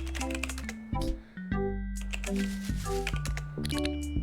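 Rapid keyboard typing from the Frog Fractions video game, a steady patter of keystrokes with short tonal game blips layered over it, alone with no voices.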